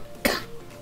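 A single short cough from a person, one sharp burst in an otherwise quiet room.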